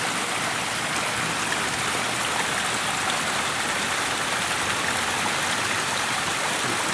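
An eight-tier backyard garden waterfall runs into a pond in a steady, dense rush of splashing water, loud and close, with no break and no voices.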